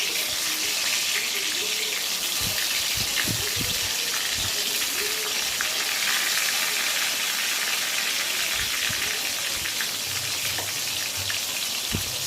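Eggplant pieces rubbed with salt, turmeric and sugar fry in hot oil, a steady, dense crackling sizzle with scattered sharper pops, continuous throughout.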